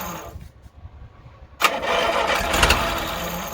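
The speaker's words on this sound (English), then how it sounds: "If it tries to start, don't over rev it, just keep it in the same place." An engine cranks with a short choppy stutter, then catches and roars into a loud, steady running drone close by, with no talk over it.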